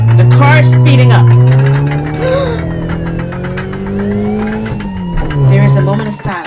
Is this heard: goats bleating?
no